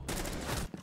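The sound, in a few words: shotgun fire in a video game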